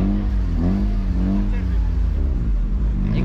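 Car engine at an auto expo rumbling with low, rising revs, loud and close, heard beneath someone talking throughout.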